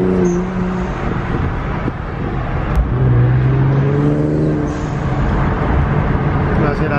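Infiniti Q50/Q60 fitted with HKS blow-off valves accelerating hard in third gear, a loud engine roar with rising pitch heard from inside the car, with people talking over it.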